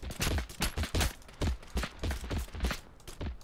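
Rapid bursts of gunfire from the video game Totally Accurate Battlegrounds, a string of sharp cracking shots in uneven clusters, fairly close and with no talking over them.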